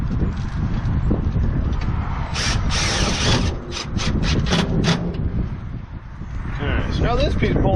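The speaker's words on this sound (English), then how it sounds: "Holes are marked, so I'm going to screw this thing down" A screw being driven down to fasten a cold air intake kit part on a 1999–2007 Ford, with several bursts of a power driver and ratcheting close up, mixed with workshop rustling and a person talking.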